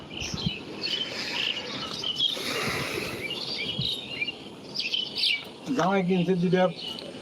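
Busy chattering and warbling of a large flock of free-flying pet budgerigars, many birds twittering at once, with a person's voice speaking Bengali briefly rising over the flock.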